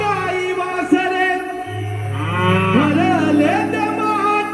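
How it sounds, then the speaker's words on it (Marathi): Cattle give long, drawn-out moos, loud and near, with one low bellow sliding in pitch, over a sustained tonal musical background. "हंबरती गाई वासरे भरले दमाट ग"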